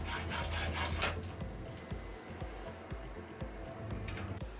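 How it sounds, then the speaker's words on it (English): A hacksaw cutting through EMT conduit pipe, with a quiet, uneven rasp of strokes over a low background hum. "I'm going to go ahead and cut with a hacksaw somewhere out here"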